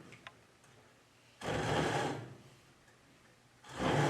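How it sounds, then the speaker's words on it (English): A hand saw makes back cuts to start notches in wood for a chair, two rough rasping strokes up close separated by a quiet pause. "then start with those couple of back cuts just to get some notches going"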